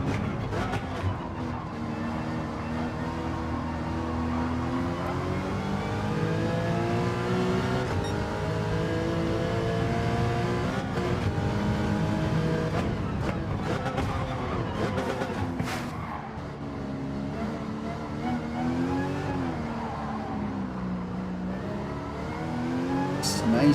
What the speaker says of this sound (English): I've got another car coming up behind me at the moment.